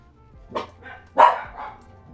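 Dogs barking indoors, probably at someone passing outside: two short bursts of barks, a couple of sharp woofs each, fairly close and clear, with quiet room tone between them and no talk.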